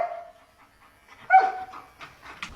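An Alaskan malamute whines during paw handling, then gives a sharp bark followed by softer yips and grumbles, close and clear in a quiet room.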